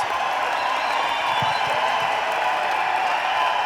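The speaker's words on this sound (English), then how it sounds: "Give them another round of applause" Audience at the Hooters International Pageant applauding the contestants, a loud, steady, dense roar of clapping from a large crowd that runs on without a break.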